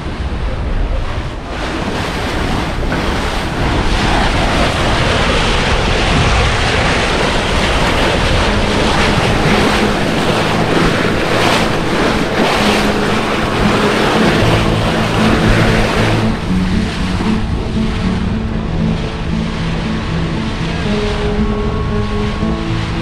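A loud, steady boat engine roar, likened to a jet engine, with wind and rushing water, the drone continuing throughout with a lower rumble settling in toward the end.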